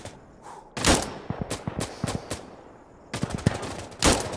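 Sniper gunfire in the tactical shooter game Insurgency: a series of sharp, loud shots ring out at irregular intervals, some in quick bursts, with a heavy crack near the start and another near the end.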